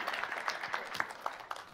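A keynote audience at RuneFest 2017 cheers and applauds in a brief, steady wash of clapping that carries through the whole moment.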